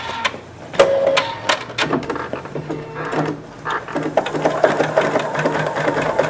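A Creative Sensation Pro embroidery machine stitches a basting outline around a design, its needle mechanism chattering in rapid bursts with whirring motor hum and occasional clicks, close and steady.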